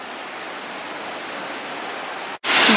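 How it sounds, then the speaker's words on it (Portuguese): Caracol waterfall in Canela, Rio Grande do Sul, heard from the long stairway trail as a steady broadband roar, loud and continuous, briefly cutting out near the end before returning louder and brighter. "Então já dá pra começar a ter uma vista da cascata"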